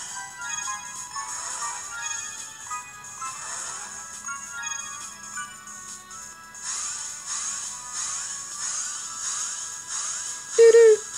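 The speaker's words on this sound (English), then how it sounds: "That must be a phone ringing." A phone ringtone plays within a video game session, a repeating electronic melody that continues over the full length at moderate level, with a brief louder tone near the end.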